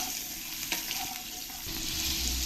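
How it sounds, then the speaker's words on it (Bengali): Potatoes seasoned with salt and a little turmeric being stirred in a pan, a steady close sizzle with a few scraping stirs over a continuous frying hiss. "আলুর মধ্যে আমি একটু লবণ দিয়ে দেবো আর খুব সামান্য একটু হলুদ দিয়ে দেবো ভালো করে নেড়ে দেবো"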